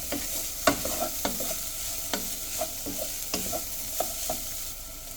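Beans and carrot fry being stirred in a frying pan, a spatula scraping and clacking in irregular strokes over a steady, close sizzle, with no one talking.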